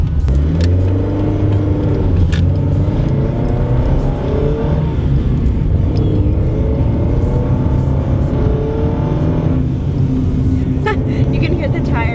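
Honda Civic EK coupe with a Tanabe Touring Medallion exhaust driving on a freeway, a steady loud engine drone with tire roar, rising and settling as speed picks up, with someone talking over it.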